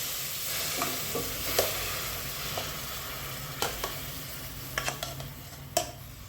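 Soft scraping and occasional clinks of a spoon stirring butter melting in a pot over high flame while making ghee, with a low background hum and a few sharper taps.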